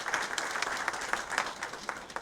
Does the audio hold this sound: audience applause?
yes